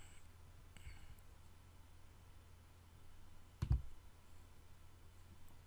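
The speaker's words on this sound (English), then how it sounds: "So now I just click on next." A single faint mouse click sounds once in a quiet room with low background hum.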